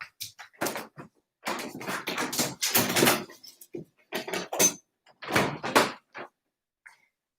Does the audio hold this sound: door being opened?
yes